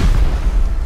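A rocket exploding in the video game Rust, a short, loud, deep boom that rumbles and fades within a second.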